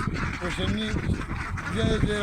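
Ducks from a small duck farm in a shed in the middle of open fields, quacking in short nasal bursts close by. People talk over and between the calls.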